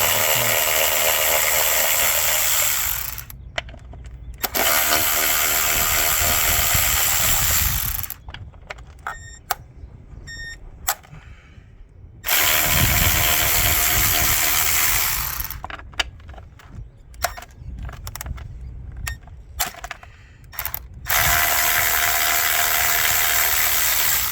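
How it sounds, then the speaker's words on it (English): An automatic ratchet wrench with a 10 mm socket works bolts loose on a 2015–2016 Honda CR-V during a spark plug change, giving loud bursts of rapid mechanical whirring and clicking, broken by pauses and sharp ratcheting ticks. "I have one of these automatic wrenches now. So you just pop the 10 on."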